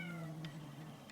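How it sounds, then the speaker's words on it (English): A house cat meows in a drawn-out, wavering call close by, standing out clearly over a quiet room with no talking. "My cat's name is Mouse."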